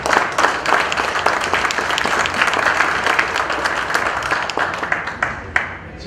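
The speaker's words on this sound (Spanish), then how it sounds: "Aplausos, por favor." An audience at a national notarial conference in Cajamarca, Peru applauds with dense, steady clapping throughout, sustained and fairly loud, tapering slightly toward the end.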